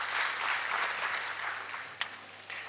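Audience applause welcomes a panel speaker at a Rotary and BSE SME entrepreneurship seminar, a brief burst of clapping that fades, with a couple of sharper claps near the end.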